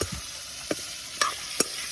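Food frying in a pan in an underground house, a constant sizzle with three or four sharp scraping stirs spaced about half a second apart, close by and without speech.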